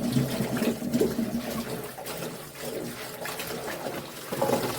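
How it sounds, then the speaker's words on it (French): Fava beans being rinsed in a bowl of water, with steady sloshing, trickling and splashing close by, a little louder at the start and end, and no talking. "on les rince 2 à 3 fois en changeant l'eau à chaque fois."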